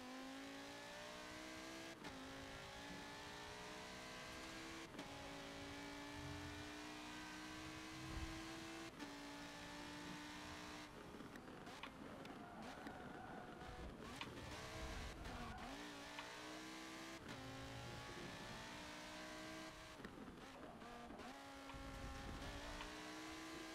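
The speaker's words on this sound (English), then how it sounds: "Oh, this car is really tough to control." A proper racing car in a video game roars continuously, its engine revving up and down through gear changes with bursts of tire squeal and skidding, loud and sustained with no talk over it.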